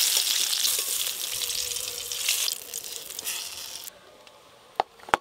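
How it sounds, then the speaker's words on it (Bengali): Vegetables frying in mustard oil in a wok for khichuri give a loud, steady hissing sizzle that drops in level partway through, then fades to quiet with a couple of sharp clicks. "এবার খিচুড়ির সবজিগুলো ভেজে নেব। কড়াতে সর্ষের তেল দেব"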